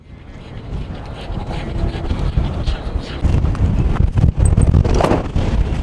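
Strong gusts buffet the microphone at a van life meetup campsite, a rough rumbling roar that swells and surges unevenly, growing louder toward the end.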